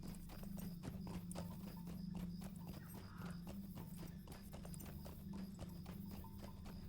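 Horse hooves clip-clop in a steady, even rhythm as a mount is ridden in the Lord of the Rings Online video game, close and clear over a faint low ambient hum.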